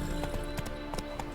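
Quick, uneven clip-clop of horse hooves in The Witcher 3: Hearts of Stone, with faint background tones, close and steady throughout.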